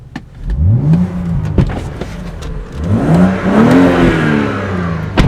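BMW M135i with a manual gearbox revving hard, two rising engine sweeps climbing in pitch, loud and close, with sharp clicks between the pulls and no talk.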